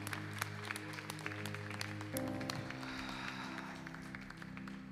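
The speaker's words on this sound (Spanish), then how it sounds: "Dale fuerte el aplauso al Señor." Clapping from a Spanish-language church congregation runs steadily at moderate level beneath sustained organ or keyboard chords that shift midway, giving a continuous ringing backdrop.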